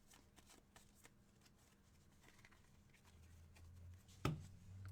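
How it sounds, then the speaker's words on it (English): A stack of baseball trading cards is riffled and shuffled at a break table, soft papery flutters that build to one sharp, louder snap near the end, fairly close and quiet overall. "Give it a shuffle."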